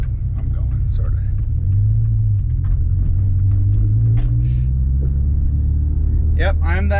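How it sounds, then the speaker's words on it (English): A Subaru Forester running with no muffler gives a loud, deep exhaust rumble that swells as the engine pulls while driving, with someone talking over it near the end. "I'm that guy with no muffler on a Subaru"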